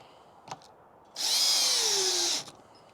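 RIDGID cordless drill on speed 2 with an old battery, driving a fastener in one short high-pitched whirring burst of about one second, with faint clicks before it and quiet after.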